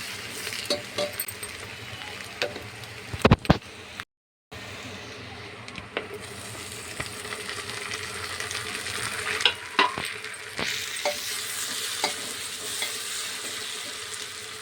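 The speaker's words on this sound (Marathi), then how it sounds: "आता याच्यामध्ये मी टोमॅटो टाकून देते" Tomatoes added to onions frying in a pan for corn pulao, with a close steady sizzle, stirring scrapes and a few sharp clinks of a utensil against the pan.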